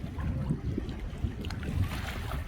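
A catamaran's starboard engine runs while the boat is maneuvered toward a mooring, a low steady rumble mixed with gusting wind buffeting the microphone and faint water sounds.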